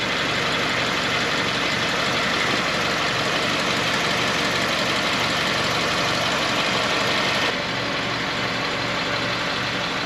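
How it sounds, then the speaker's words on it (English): A Subaru Forester with a CVT automatic held in low gear climbs onto vehicle ramps, its engine a steady, close, droning hum that continues without a break. "I kept the vehicle in low with that automatic CVT, continuously variable transmission."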